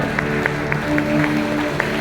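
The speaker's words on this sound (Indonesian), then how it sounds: "berikan tepuk tangan sorak-sorai" A congregation claps in a steady rhythm during a church service, roughly evenly spaced claps over a sustained background of voices and music.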